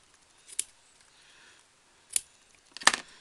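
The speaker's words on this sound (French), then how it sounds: "Couper le petit morceau là qui est en trop." Scissors trimming the edge off a small fabric ribbon rose, three short, crisp snips spread over a few seconds in a quiet room.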